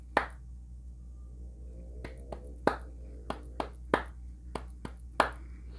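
Sharp hand claps in an irregular rhythm of about a dozen strikes, clear and fairly close in a quiet room during a mediumship preparation class.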